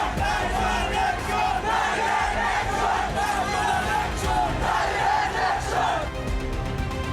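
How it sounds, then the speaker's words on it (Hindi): A frenzied crowd in the street shouts slogans in loud, surging waves of massed voices, with rhythmic bursts of chanting that rise and fall, close and dense throughout. "सरेआम सड़कों पर कट्टरपंथियों की उन्मादी भीड़ डायरेक्ट एक्शन दोहराने का नारा लगा रही है"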